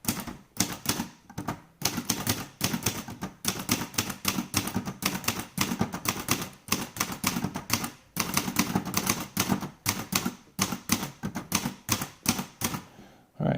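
An Olivetti Lettera 82 manual typewriter clacks away in rapid, uneven bursts of keystrokes, with brief pauses and occasional carriage sounds, close and crisp with no talking.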